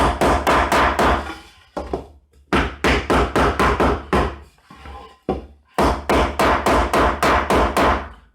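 Rapid, heavy knocks of a rubber mallet striking wood while assembling a National beehive box, delivered in three bursts of fast repeated blows separated by short pauses.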